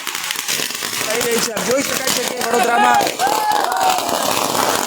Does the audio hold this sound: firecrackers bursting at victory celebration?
yes